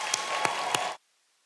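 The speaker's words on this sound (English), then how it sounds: "please join me in giving your families a round of applause" Audience at a Manhattan College commencement applauds graduates' families, a dense crowd clapping with a few sharper claps on top, lasting about a second before cutting off abruptly to silence.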